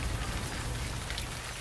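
Rain falls steadily onto concrete, a soft, even hiss of drops with no pauses and no voices.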